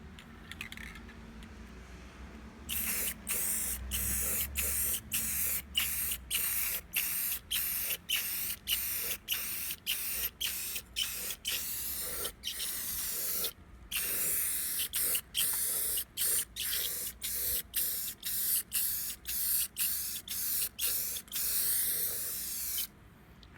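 An aerosol can spray paints a cleaned rear differential cover in a long series of short, sharp hissing bursts that follow a quiet start, each with a brief gap between, close and loud.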